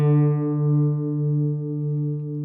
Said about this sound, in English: as we get closer and closer, this beating sound will slow down.